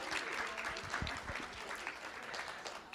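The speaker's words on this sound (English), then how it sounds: "Let's give these fine ladies a round of applause." Soft, somewhat distant applause from a school board meeting audience for the Fair Oaks Ranch Elementary PTO, a brief steady patter of clapping.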